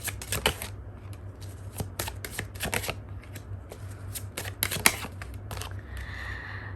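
Tarot cards are shuffled by hand in a quick series of crisp riffling and flicking bursts, close and distinct, with short pauses between them.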